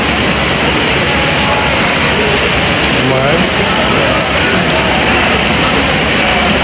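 Spring water pours steadily from a pipe at a natural spring, a loud, continuous rushing splash that fills the whole clip without letup.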